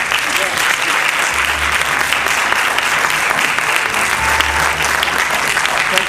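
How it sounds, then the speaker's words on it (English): A large audience gives a symphonic university band a sustained, loud round of applause after a performance of Amazing Grace, a dense, even wash of clapping that holds steady throughout with no break. "let's give this great symphonic band another round of applause."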